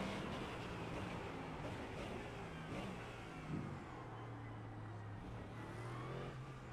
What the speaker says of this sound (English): So here I am, full throttle in the McLaren.